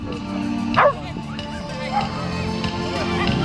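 A dog at a rally obedience arena lets out a single short bark near the start, over a steady background murmur with people talking nearby.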